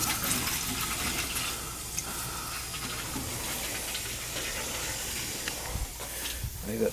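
Water rushes and hisses steadily through a gas boiler system during a glycol flush and drain, a continuous close gurgling wash with faint knocks near the end.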